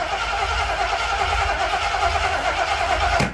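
An old car's starter motor cranks the engine steadily for about three seconds, a loud, even mechanical whir that cuts off abruptly near the end.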